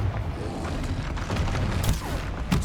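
Confringo blasting spell explosion in Hogwarts Legacy: a loud, deep rumbling boom that fills the whole moment, close and heavy with a crackling tail, and no voices over it.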